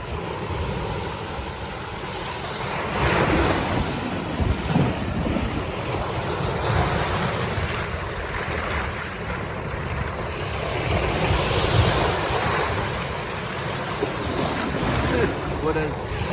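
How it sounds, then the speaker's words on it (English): Rough water at a river mouth where the sea meets the channel, heavy waves and surf churning and crashing around a person in the water, with strong wind noise buffeting the microphone in surges. "Water's beating me up here."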